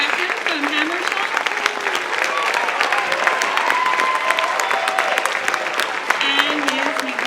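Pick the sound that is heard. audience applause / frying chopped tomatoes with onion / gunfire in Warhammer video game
audience applause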